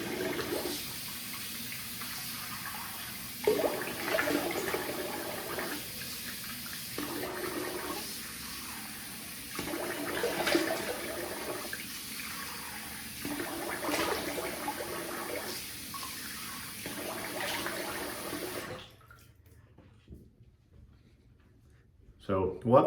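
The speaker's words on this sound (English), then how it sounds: "All right, so I'm gonna rinse the face." Tap water running into a sink while the face is rinsed after shaving, a steady close stream broken by repeated splashing scoops, stopping near the end.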